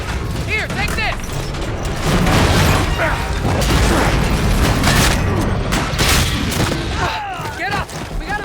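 Gunfire from the video game Call of Duty Infinite Warfare, a dense barrage of shots and booms over a busy battle mix, loud and continuous throughout.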